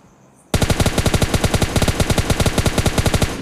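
Rapid automatic gunfire from the mobile game PUBG Mobile Lite, a loud, continuous string of sharp evenly spaced shots starting abruptly after a brief quiet moment.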